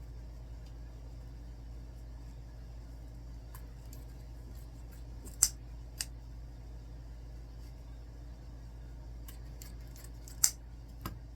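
A few faint, sharp snips of scissors angle-cutting pipe cleaners for a deco mesh fall pumpkin craft, isolated clicks spaced several seconds apart over a quiet room hum.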